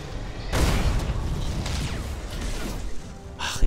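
Nova cannon fire in the space strategy game Battlefleet Gothic: Armada 2: a heavy booming blast with a long rumbling, crackling tail that stays loud for a few seconds, no voices.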